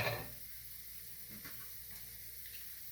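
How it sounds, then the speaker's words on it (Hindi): Leftover rice cooks in a pan being covered with a lid, giving a steady low sizzle throughout after a brief louder rustle at the start. The sound is faint and close, with no talking. "चलिए, अब मैं इसको ढकती हूँ।"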